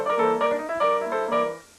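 A voice imitates a jazz piano rhythm pattern at a fast tempo, singing quick pitched syllables in a short syncopated run that fades out at the end.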